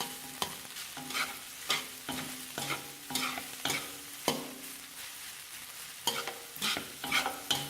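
Rice with vegetables and pork stir-fried in a pan, with repeated scraping strokes of a spatula in a steady rhythm over a constant sizzle, close and clear, with no talking.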